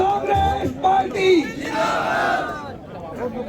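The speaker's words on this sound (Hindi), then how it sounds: "जोरदार तालियों से स्वागत करें और जोरदार नारा, कांग्रेस पार्टी जिंदाबाद" At a Congress party Holi gathering and workers' felicitation rally, a crowd shouts slogans together in loud, rhythmic bursts, the voices rising and falling in unison with a cheering swell, and no one speaks alone.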